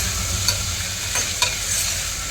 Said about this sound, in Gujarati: તો આપણે એમાં ટમેટું નાખી દઈશું અને બરાબર એને મિક્સ કરી લઈશું